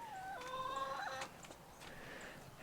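A backyard chicken near its coop gives a few throaty clucks and a rising squawk, close and clear against quiet outdoor background, with no talk.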